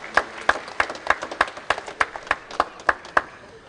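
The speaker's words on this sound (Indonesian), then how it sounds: "Kita berikan tepuk tangan untuk mereka yang bertugas." Audience clapping in rhythm at a council meeting in Jakarta, a steady series of about a dozen even, crisp claps that sound like a crowd clapping in unison, moderately loud with no talk over it.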